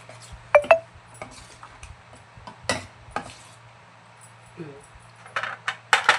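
Spoon clinking and scraping against a bowl while Bombay rava (semolina) dosa batter is stirred loosely with water, irregular sharp taps and scrapes with quiet pauses in between, close by.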